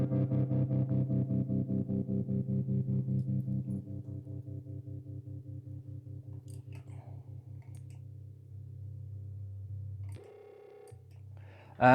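A sustained guitar tone from a Line 6 HX Stomp pulses rapidly and evenly in volume, a steady wobbling tremolo that continues for several seconds before a change in tone near the end.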